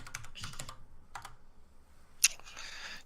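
Quiet clicking keystrokes on a Cherry MX Red mechanical keyboard at a desk, a few irregular bursts of typing with one sharper key clack, faint and close, no voices.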